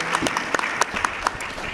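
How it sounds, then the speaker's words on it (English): Scattered hand claps from an audience at a university State of the University address, individual sharp claps spread unevenly across the moment rather than a dense roar, moderately loud and alone. "Vincent, will you stand and let us applaud for you"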